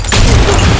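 A grenade blast in the shooter game Blackshot, a single loud, heavy boom with a low rumbling body, close and dominating the brief moment.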